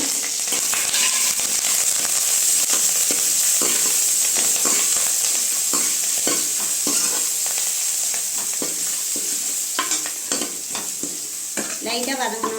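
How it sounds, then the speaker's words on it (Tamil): Crushed garlic, curry leaves and dried red chillies fried in a tempering for rasam produce a loud, continuous sizzle with crackles and occasional stirring clatter, close up and without talking. "இப்போ தட்டி வச்சிருக்கிற பூண்டு சேர்த்துக்கலாம். அது கூடவே கருவேப்பிலையும் வரமிளகாயும் சேர்த்துக்கோங்க."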